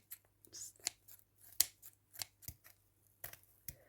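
Small scissors snip through the hay arms of a miniature craft scarecrow, a series of crisp, close, irregularly spaced cuts with quiet gaps between them.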